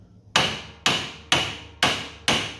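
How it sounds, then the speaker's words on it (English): Five hard, evenly spaced hammer blows ring out close and loud on a nut threaded onto a John Deere D Series mower steering shaft, each strike sharp with a short decaying ring. "it gives me something to hammer on without completely screwing the threads up on the shaft"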